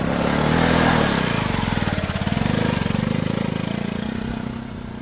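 A motorcycle climbing a steep hill road near Wagamon engages in loud, close engine revving that settles into a rapid, throbbing beat and then eases slightly toward the end.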